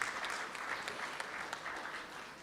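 Applause from an audience at the opening of a muzakarah, honoring the Ministry of Finance; steady, faint, distant clapping that holds evenly throughout without a break.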